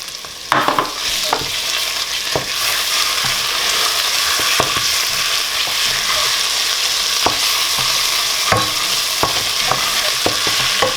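Ingredients with plenty of dried mint, red pepper flakes and ground pepper sautéing in a pan, a steady close sizzle with occasional stirring clicks against the pan, no voices.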